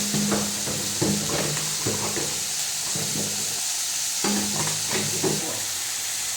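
Ground tomatoes and salt sautéing in a pan for a chutney, a constant sizzle broken by repeated spoon scrapes and stirring strokes at a steady, unhurried rhythm, close and fairly loud with no talking.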